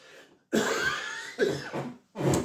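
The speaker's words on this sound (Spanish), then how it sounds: "Perdonadme que tengo un poco de tos" Three hoarse, close coughs come in quick succession, each a rough burst separated by brief pauses.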